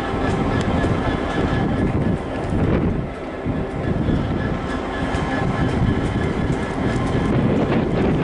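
A diesel multiple unit, East Midlands Railway train 158773, pulls away from Lincoln station, a steady heavy rumble with rail clatter filling the whole stretch, close and continuous with wind buffeting.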